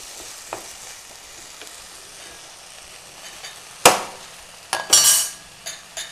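Potato cubes with kabuli chana being sautéed in a pan for Kabuli rice: a steady low sizzle, then a sharp scrape near four seconds and a louder burst of stirring and clatter toward the end, with no talking.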